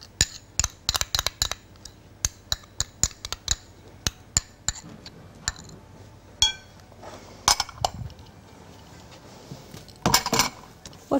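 Spoon clinking and scraping in a bowl while coconut, sweetened condensed milk, nutmeg, salt and lemon are stirred together for a coconut tart, with irregular sharp clinks and pauses close by.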